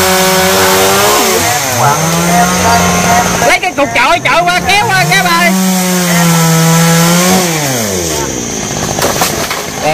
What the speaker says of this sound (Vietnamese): ở bên đây thì có anh Hơn với anh Đồng đang cưa mấy cây nguyệt quế bỏ